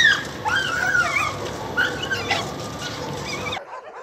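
Stray dogs at an animal shelter whimper and yip in a high, wavering chorus over a noisy, reverberant background, several plaintive cries overlapping for a few seconds before cutting off.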